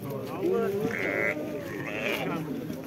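Sheep bleat loudly and close at a livestock market, one drawn-out bleat then another, while people talk over the pen noise.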